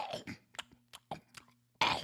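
A voice imitates loud crunching of crisps in a quiet movie theater, with a series of soft, irregular, close crunches and mouth noises followed by a louder burst at the end.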